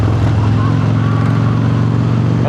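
Harley-Davidson motorcycle ridden over Snake Pass, its steady low engine rumble droning loud and close throughout with constant road and wind noise, no pronounced revs.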